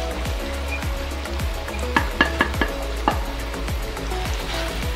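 Spices are stirred into melted fat in a pan for chicken achar gosht, with a steady sizzle under rhythmic scraping strokes and a few sharp clinks of the spoon against the pan.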